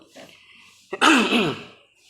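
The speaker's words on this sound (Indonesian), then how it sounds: "Maaf batuk ya" A single loud, harsh cough or throat-clearing burst up close, preceded by a short breath, with quiet moments around it.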